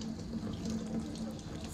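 Tap water runs steadily into a sink while a soft natural squirrel-hair makeup brush is rinsed, a continuous close splashing stream with no talk.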